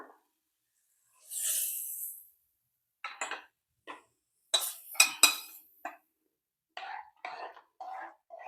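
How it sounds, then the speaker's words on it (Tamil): Metal utensils clink against a pan as tempering is stirred into cooked dal, short scattered knocks and scrapes separated by brief pauses, with a soft hiss early on; close, fairly quiet, no talk. "இப்போ நம்ம வேக வச்சிருக்கல அந்த பருப்பில் இந்த தாளிப்பை சேர்த்துப்போம்."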